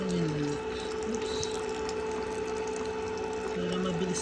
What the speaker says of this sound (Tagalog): ilalagay na lang natin ulit yung tubig